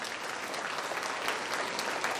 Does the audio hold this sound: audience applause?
yes